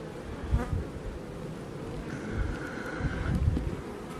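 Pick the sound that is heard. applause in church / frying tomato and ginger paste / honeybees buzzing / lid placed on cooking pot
honeybees buzzing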